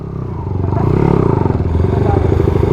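A dry-clutch motorcycle engine runs loudly up close at a race track, a steady rapid throbbing putter with a rough mechanical clatter, holding an even rhythm throughout.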